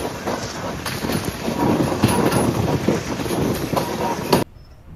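The Sairang Kolkata Express rolls along with a heavy rumbling clatter and repeated wheel clicks, loud and close, before the noise cuts off abruptly near the end.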